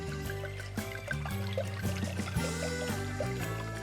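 A full bottle of Cabernet wine is poured into a pot in a steady glugging stream, close and continuous, with the pitch stepping as the bottle empties.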